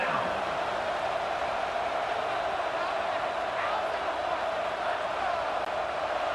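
Football stadium crowd roaring steadily for the Texas Tech Red Raiders defense on third down against UCF, a dense continuous wall of noise throughout with no clear breaks.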